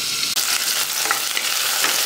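Chopped onion and large potato pieces fry in a pan, giving a bright, continuous close sizzle with faint stirring crackles.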